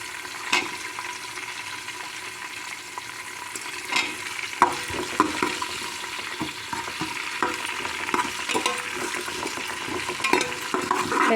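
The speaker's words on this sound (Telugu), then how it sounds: "ఉల్లిపాయలు వేసేసుకోవాలి." Chopped onion hitting hot oil in a pan for khichdi, a steady close sizzle and frying hiss with occasional stirring scrapes and clinks running throughout, no voices.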